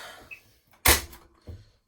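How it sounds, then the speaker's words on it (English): Servis slimline washing machine door unlatching with one sharp loud clunk, followed by a softer knock a moment later, close by in a quiet room. "That is one vicious door open, I have to say."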